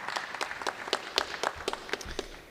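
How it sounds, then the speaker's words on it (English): Audience applause at a high school awards ceremony, heard as a modest scattering of distinct claps, fairly sparse and uneven, tapering off toward the end. "So give it a round of applause for them again."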